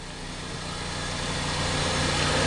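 A spin rinse dryer motor with PSC-101 controllers runs smoothly at 1800 RPM, a close, loud, steady hum and whir that swells slightly over a few seconds.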